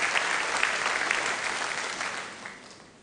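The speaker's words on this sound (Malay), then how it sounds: "Ayolah kita berikan tepukan syabas Tahniah pada syarikat Usma dan Papa Rich Malaysia Senerahan Berhak." Steady applause from an audience at a Malaysian government annual report event presented by the Prime Minister, a dense even wash of clapping that slowly fades toward the end.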